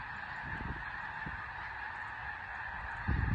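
Snow geese honking faintly and at a distance in fog, with a steady hum beneath and a slightly louder honk near the end.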